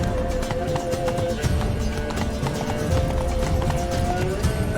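Horse hooves gallop in The Witcher 3: Blood and Wine, a fast, steady clip-clop rhythm that runs loud and close throughout with no talk over it.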